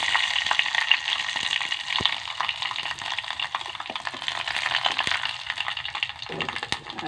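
Mustard seeds crackle and pop in hot oil in a pan, a steady dense sizzle with scattered sharp pops, close and fairly loud, with no voices.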